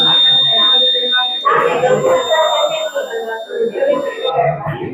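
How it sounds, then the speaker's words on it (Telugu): A gas-leak alarm buzzer triggered by an MQ2 flammable-gas sensor gives a loud, continuous high electronic tone close by, under a voice talking throughout. "మీకు ఈ బజర్ వచ్చినప్పుడు మనం అలర్ట్ అవుతాం."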